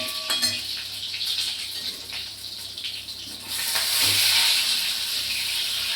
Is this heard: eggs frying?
yes